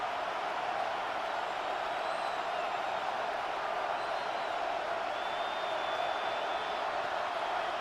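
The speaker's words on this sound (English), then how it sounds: "The crowd at Arrowhead roaring" Football crowd roaring at Arrowhead Stadium during an NFL game, a steady, dense wall of stadium noise that holds loud and unbroken throughout, with faint whoops rising out of it.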